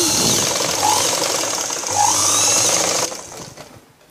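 A sewing machine stitches a blouse, running steadily and fairly close for about three seconds with a brief pause near the one-second mark before stopping and fading out, with no speech over it.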